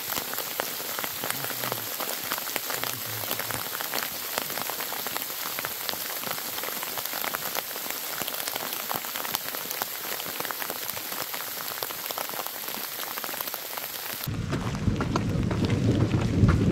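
Steady rain falls hard through a forest in the Dolomites, a close, continuous hiss of drops. Near the end it gives way to a deeper, louder rumble like distant thunder or wind.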